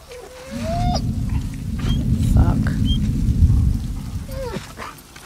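A dog whimpers and whines in the video game The Last of Us Part II, thin rising cries over a loud, rumbling rain-like background, with a few other brief in-game sounds.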